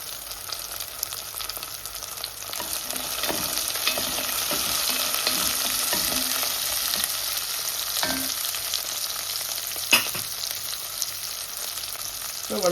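Green chillies fry in oil for a fish curry, a dense hissing sizzle that holds steady throughout, with scattered spatters and a few stirring clinks, close and alone.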